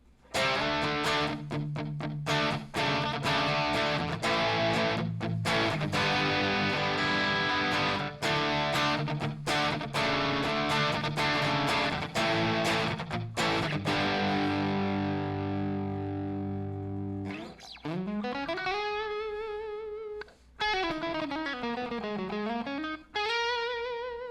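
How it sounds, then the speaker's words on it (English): An Enya guitar plays through its distortion channel, first with loud, thick chugging chords and sharp stops, then with sustained, bending distorted notes that sweep up and down. "this should be the distortion channel"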